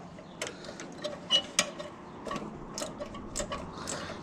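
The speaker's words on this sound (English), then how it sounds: "So now I got a ratchet wrench. Put it on there." A ratchet wrench clicks in short, uneven bursts while loosening a 10 mm bolt on a Briggs and Stratton tank-mounted carburetor, quiet and close with sharp ticks and small knocks, no voices.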